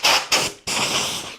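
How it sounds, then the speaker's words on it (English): Compressed-air duster spraying into the fans of a Synology DS220j NAS, two short close hissing bursts followed by a longer sustained blast. "this cleaning duster from Office Depot says that it's moisture and residue free, okay? So I'm going to clean the fans off in here."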